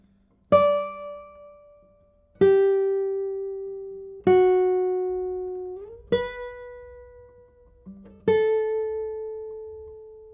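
Single plucked notes on an acoustic guitar with Persian walnut back and sides ring out one at a time, about five in all, each with a quick bright attack and long fading sustain.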